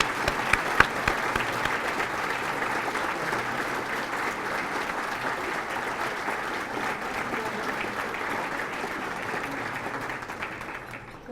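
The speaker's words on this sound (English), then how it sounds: "A big round of applause, and please stand to be recognized." Sustained applause from a luncheon audience at a legislative event, a dense, even wash of clapping that holds steady for about eleven seconds without talk.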